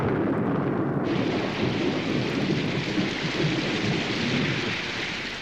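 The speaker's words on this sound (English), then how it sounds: "Could be raining." Heavy rain pours down with a continuous rumble of thunder in a film scene, loud and dense throughout with no voices.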